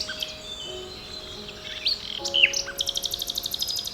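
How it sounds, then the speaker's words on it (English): A nightingale sings in spring: clear whistled phrases and short notes, then a fast run of repeated sharp chirps near the end, fairly close and alone. "I track him down and listen, even though the song is not meant for me."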